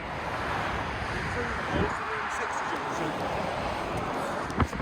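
Strong wind buffets the microphone on an exposed walking path near a bridge, a dense, continuous roar with occasional gusty thumps.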